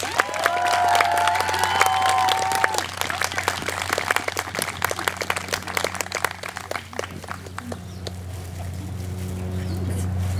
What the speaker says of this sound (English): So round of applause for our awesome seniors.